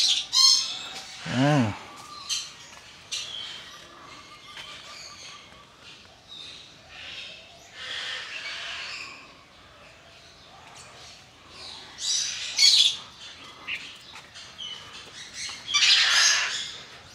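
Loud, harsh squawks of a violet-necked lory burst out repeatedly over a busy background of other birds chirping and calling in a noisy zoo aviary.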